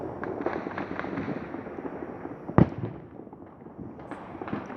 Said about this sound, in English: behind me, it's more firearms, gun shooting than anything else.